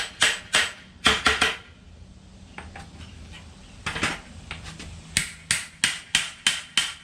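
Sharp metallic taps from a hammer striking a loose leaf spring slider on a 1955 Chevy come in quick clusters of two to four hits, near and crisp, with short pauses and softer knocks between bursts.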